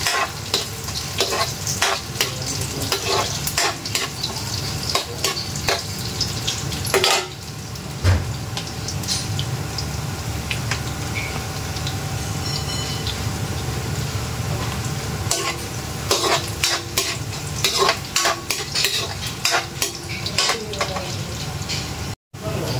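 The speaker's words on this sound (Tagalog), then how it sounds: "dahil medyo fry na po ng konti ang ating luya" Ginger fries and sizzles in a pan for catfish stew, a steady broadband hiss with a spatula stirring and scraping against the metal. Occasional clinks sound over the frying, which carries on nearly unbroken until a sudden stop at the end.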